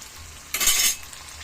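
A short burst of hot oil sizzling loudly as tofu is dropped or stirred in a pan, fading back to quiet.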